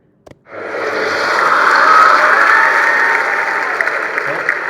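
A crowd bursts into sustained clapping applause after a brief knock, swelling loud and steady for several seconds before easing slightly.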